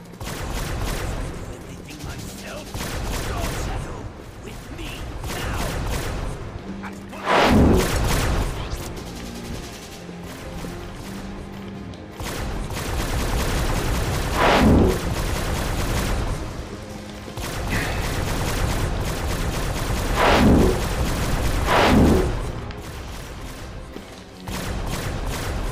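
Anti-aircraft cannons in G.I. Joe: Operation Blackout fire in loud repeated bursts at Sky Strikers with occasional heavy booms, over a constant dense din while a voice talks at times.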